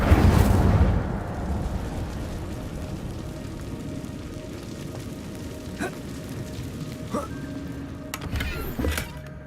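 An Incendio fire spell cast in Hogwarts Legacy opens with a loud whooshing burst that settles into a low crackling rumble, dotted with a few faint clicks and a brighter flare near the end.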